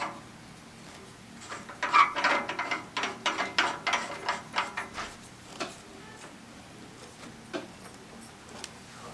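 A Midland antenna being screwed onto its mount on a Toyota Tacoma, giving a run of close, quick clicking and ratcheting ticks that fade into sparse single clicks.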